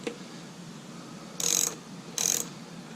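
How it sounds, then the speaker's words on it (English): Two brief, bright ratcheting bursts from a 3/8 socket wrench loosening bolts on a Lawnboy M Series lawn mower, spaced about a second apart in a quiet room. "So I'm using a 3/8 socket on it."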